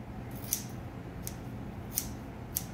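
Scissors snip the tip bristles off a brush used for mold making, giving four sharp, quiet cuts spaced about a second apart over a low background hum.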